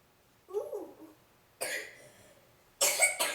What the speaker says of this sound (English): Cough all over the water spout.